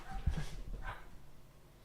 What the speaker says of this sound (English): We've got a loose dog.